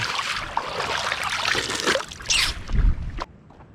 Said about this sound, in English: It's just a freshwater stream.